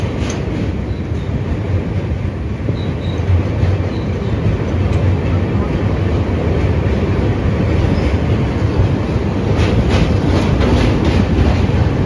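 The Hatia Express train rumbles steadily along the tracks on the Jolarpettai to Ranchi route, a loud, continuous rolling roar with faint rhythmic clatter of wheels, close by and without voices.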